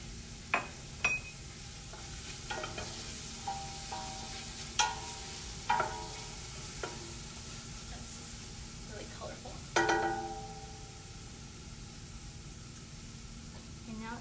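Diced tomato and carrots sautéing in a pan, with a low steady sizzle beneath intermittent stirring scrapes and sharp utensil clinks against the cookware, spaced irregularly every second or so, one louder clatter near the end.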